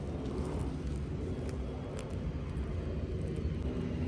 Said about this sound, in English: Most of my videos are gonna have planes in the background because that's where I live.